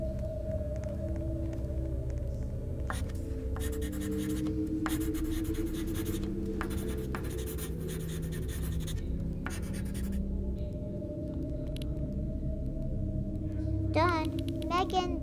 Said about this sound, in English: Let's draw something.